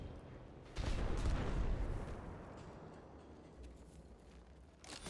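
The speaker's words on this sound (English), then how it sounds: "I'm going to use this cannon to launch myself up" A cannon launcher in Destiny 2 fires a player upward, a sudden heavy boom and rushing blast that swells loudly, then trails into a long decaying whoosh and rumble.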